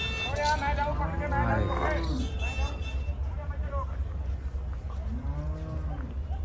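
Water buffaloes at the Khanna cattle market give several low, drawn-out moos over steady rumbling engine noise as they are loaded onto tempos, while people talk nearby.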